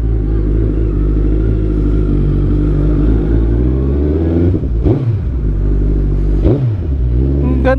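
A Suzuki Hayabusa motorcycle engine idles with a loud, steady rumble while still cold, then is blipped twice in quick revs before settling back to idle.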